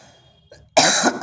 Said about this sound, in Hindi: सर्दी का मौसम है, थोड़ा सा खांसी से परेशान है।